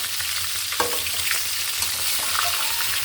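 Hilsa fish frying in oil in a pan with jackfruit, giving a dense, continuous close sizzle with a few light stirring knocks.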